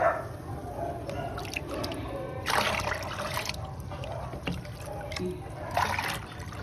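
Water splashes and trickles in several strong bursts, a heavy dripping flow over a faint steady background hum.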